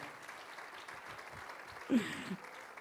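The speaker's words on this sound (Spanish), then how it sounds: "Oigamos el aplauso que es para el Señor." Faint, distant applause from a church congregation during a sermon, a soft diffuse patter with a brief louder swell near the end.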